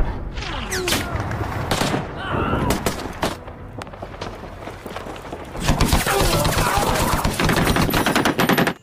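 Gunfire from a war film: dense bursts of machine-gun fire and rifle shots crackle loudly, easing briefly in the middle before a sustained, heavy fusillade resumes near the end.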